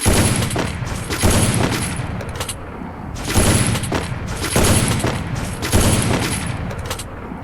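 Sniper rifle shots from the video game Free Fire come in loud, booming reports roughly every second, each followed by a short echoing tail.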